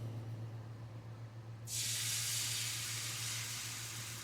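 Beaten egg poured into a hot oiled pan for a vegetable omelette, making a sudden loud, steady hiss of sizzling that starts partway through and holds to the end over a low hum.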